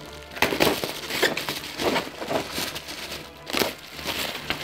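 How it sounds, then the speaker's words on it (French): Packaging of a Myth Cloth collectible figure, Capella, being unwrapped by hand: close, busy crinkling and crackling of plastic and paper, with irregular rustling bursts and soft handling noises throughout, no talking. "Ensuite, on va déballer ça."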